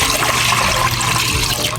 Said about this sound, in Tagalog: maglagay na tayo ng tubig dito sa kaserola